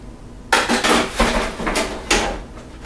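A stainless steel water container is pushed into a Mini Classic II countertop water distiller, giving a sharp metallic clank followed by several rattling knocks and a final thump, close by with no talking.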